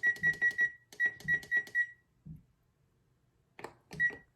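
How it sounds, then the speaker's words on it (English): A kitchen timer set for an apple puff pastry pie in the oven gives rapid bursts of close, sharp electronic beeps in two quick series, followed by a few softer button clicks and beeps. "And we'll get the timer."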